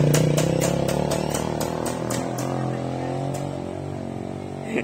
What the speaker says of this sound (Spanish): Le va tronando la moto.